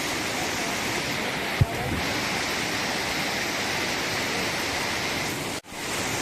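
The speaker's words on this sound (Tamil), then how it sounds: "இங்க பாருங்க, வாட்டர் ஃபால்ஸ்" Zenith waterfall at Khopoli roaring as a steady, loud wash of broadband water noise with a brief bump and a short dropout, no talking.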